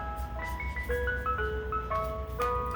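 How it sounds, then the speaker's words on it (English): An ice cream truck plays its tinkling music-box jingle, a bright stepping melody of clear notes over a low engine rumble, moderately distant and with no talk. "The ice cream truck is here."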